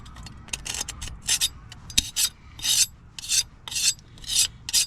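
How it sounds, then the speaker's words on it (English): Leftover RTV sealant is scraped off Nissan 300ZX twin-turbo engine parts in a series of short, rasping strokes, close and distinct, with brief pauses between them. "we're just gonna use it just to scrape off any remainders of RTV what might be on there."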